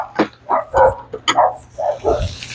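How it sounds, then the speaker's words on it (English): Dogs bark in a run of loud, close, uneven yips and barks near an outdoor grill where fish tacos are cooking, with no talk. "And there's the dogs."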